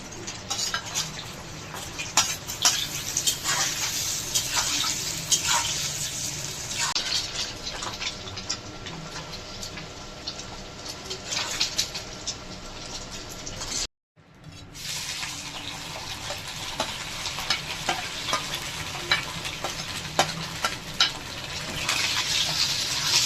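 Spices fry in a pan with a steady, soft sizzling hiss, broken by faint clinks of a utensil stirring. One brief silent gap interrupts it midway.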